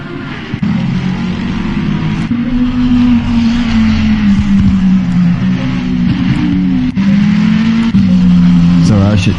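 GT3 race cars, including a McLaren, lap the circuit in Assetto Corsa Competizione, with a loud sustained engine drone whose pitch rises and falls through gear changes, while a commentator talks over it.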